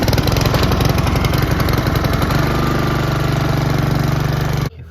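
A gas lawn mower engine runs steadily at a close, loud idle-like drone with a rapid pulsing rhythm, then cuts off abruptly near the end.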